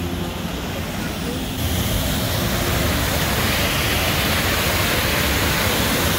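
Abrams Waterfall pours nearby with a dense, steady roar of falling water, loud and unbroken, its hiss brightening slightly after the first second or so.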